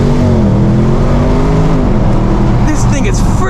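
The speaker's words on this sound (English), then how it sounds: "About to do a launch control in the Avant." Launch-control acceleration in a 2021 Audi RS6 Avant wagon, a loud, steady engine roar that keeps building as the car pulls away, with excited voices over it.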